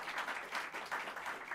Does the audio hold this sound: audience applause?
yes